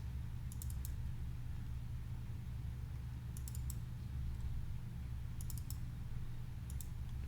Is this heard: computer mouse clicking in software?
yes